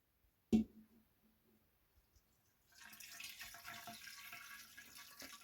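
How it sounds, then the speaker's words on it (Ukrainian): Salt brine pours steadily into a jar of lightly salted herring, a close liquid splashing and trickling that runs for several seconds after a brief knock and quiet start. "я заливаю цю, цей розсіл сюди в банку до оселедця"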